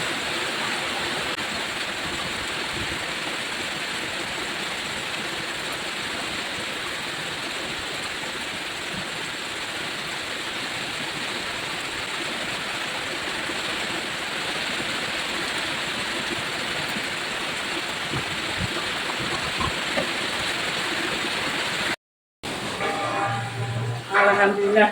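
Heavy rain pours down steadily at home, a dense, even hiss of falling water that continues unbroken before cutting off briefly near the end.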